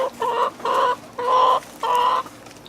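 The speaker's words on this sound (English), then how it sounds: "Chickens are doing good." Farmyard chickens in a backyard garden cluck in four distinct bursts, close and fairly loud, with short pauses between each run.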